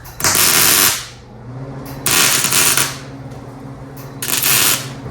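MIG welding on the front end of a 1956 International rat rod, three loud crackling bursts of about a second each with short quiet gaps between them.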